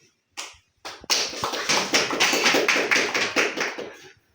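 Audience applause welcoming a speaker onto the stage at a vocational college event: a few scattered early claps, then dense, steady clapping from a room full of people that holds for about three seconds before tapering off.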